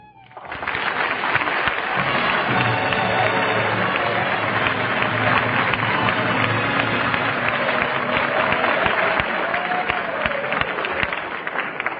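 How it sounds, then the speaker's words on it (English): A studio audience at a radio comedy show applauds a film actress, a dense, continuous roar of clapping hands that holds loudly and evenly for the full length, with slightly muffled old broadcast quality. "But why should I get all that applause?"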